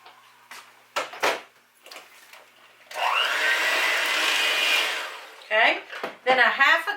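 Electric mixer beating sweet potato pie filling: a steady whirring motor runs for about two seconds between bursts of speech, close and fairly loud.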